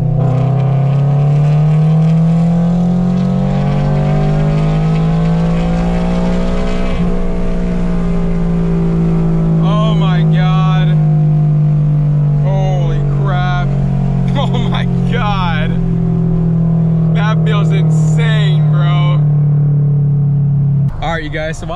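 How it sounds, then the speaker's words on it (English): A tuned Toyota GR86 engine revs out in third gear, a loud, steady rising drone that holds high before dropping near the end, with someone talking over it. "We have to rev it all the way out"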